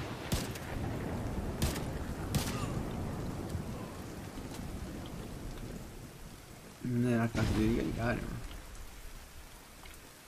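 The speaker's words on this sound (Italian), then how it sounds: "Piove." Steady rain in the game The Division 2 patters and hisses across the whole stretch, with a few sharp cracks early on and someone speaking briefly over it near the end.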